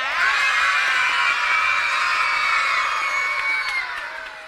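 A studio audience of children shouts and cheers together on a children's TV show, a loud, dense, sustained crowd of high young voices that carries for several seconds before easing slightly at the end.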